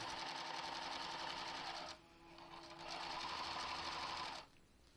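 A sewing machine stitches bias tape onto a minivan camper curtain, two close, steady runs of rapid whirring broken by a short pause, with a quieter tail at the end.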